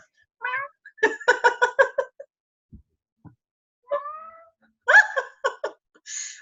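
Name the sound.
pet cat meowing trying to get into the room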